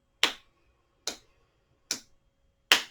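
A yoga instructor claps four sharp, single hand claps at a slow, even pace to set a breathing count, each crisp and close against an otherwise quiet room.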